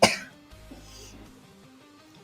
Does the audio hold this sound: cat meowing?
no